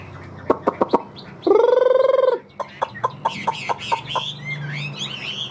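A tame Chinese hwamei songbird sings loudly and close by, with a run of sharp repeated chirps, then a sustained harmonic trill and more rapid staccato notes ending in varied whistled phrases.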